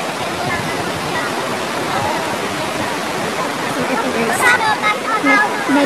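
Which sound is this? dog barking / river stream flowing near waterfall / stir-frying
river stream flowing near waterfall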